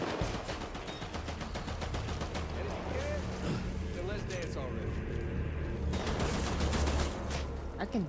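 Gunfire in a Death Stranding boss fight against Higgs, with bursts of shots layered over a steady in-game music bed and sustained action noise while a voice talks over it.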